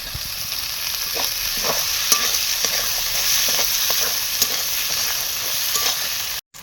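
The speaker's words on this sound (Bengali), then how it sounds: "মশলা ভালো করে ভেজে নিয়েছি, কাঁচা গন্ধটা চলে গেছে। এখন টমেটো কুচি দিয়ে দেবো।" Chopped tomatoes sizzling in a pan of fried spices for a fish curry, a steady close frying hiss with spatula stirring scrapes throughout and no voices, cut off abruptly at the end.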